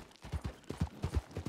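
Rhythmic clip-clop of horse hooves trotting steadily in Red Dead Redemption 2 Online, a quick even beat of soft thuds with no talking.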